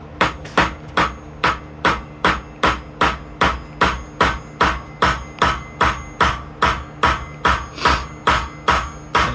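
Steady, evenly spaced hammer blows, metal striking a wedge about twice a second, each a sharp ringing knock, close and loud with no talking.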